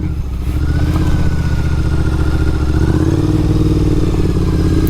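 Triumph Scrambler motorcycle engine running steady and loud on a dirt byway, a continuous close throbbing drone with slight throttle surges and clattering underneath, no talk.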